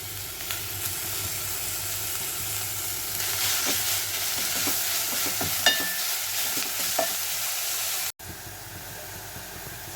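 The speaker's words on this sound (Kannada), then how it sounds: "ನಾವೀಗ ಪಾಲಕ್ ಸೊಪ್ಪನ್ನು ಹಾಕ್ಕೊಂಡು ಚೆನ್ನಾಗಿ ಫ್ರೈ ಮಾಡ್ಕೊಳ್ಳೋಣ" Spinach leaves frying in a pan, a steady hissing sizzle broken by scraping stirs and light clinks, nearby, with a brief drop-out near the end.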